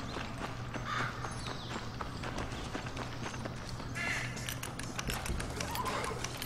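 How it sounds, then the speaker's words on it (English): Horse hooves clip-clop at a walking pace in the video game Red Dead Redemption, fairly quiet and steady, mixed with faint background game ambience. "Looks like Carlos left us some horses"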